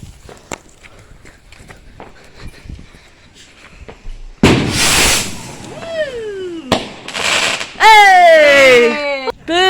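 Fireworks rockets on bonfire night outdoors on grass: faint pops first, then a loud close launch and burst, with whistling rockets gliding up and screaming in pitch, several going off in quick succession.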